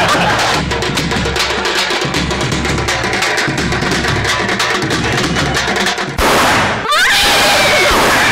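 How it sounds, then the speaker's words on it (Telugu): Firecrackers bursting in rapid, dense crackling volleys during a wedding procession, loud and continuous for several seconds before a sharper final burst and fading pops. "బాంబు సౌండ్ కు గుణం భయపడతాదని పెట్టలేదా?"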